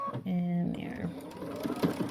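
A sewing machine stitches a dart on a corset jumpsuit, a short steady mechanical whir up close, followed by quieter handling noises and faint talk.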